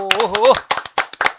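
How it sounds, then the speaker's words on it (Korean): Audience applause breaks out at a Korean broadcast talk event: a voice speaks briefly, then scattered sharp hand claps follow in quick succession. "여러분 박수 부탁드립니다."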